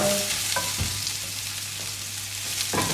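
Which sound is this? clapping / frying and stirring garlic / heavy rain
frying and stirring garlic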